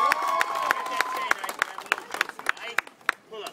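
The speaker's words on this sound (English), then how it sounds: "Give Ike a round of applause." Sharp handclaps from a small audience applauding a man named Ike, coming in a quick rhythmic patter of separate claps close by, with a voice talking over the start.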